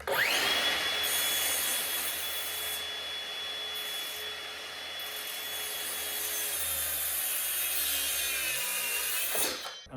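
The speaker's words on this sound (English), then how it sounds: "I'm using my circular saw up here" A circular saw cuts through timber in one continuous pass: the motor whines up, the blade rasps steadily through the wood for several seconds, then winds down at the end. It is loud and close, with no talk.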